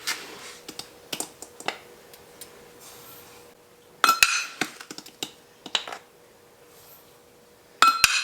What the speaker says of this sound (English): I'm going to stir this together and turn this up to medium-high heat